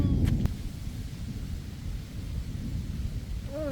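Thunder rumbles during a stormy camping trip with heavy rain, a loud low roar that fades into a steady wash of rainfall, with a faint voice at the end.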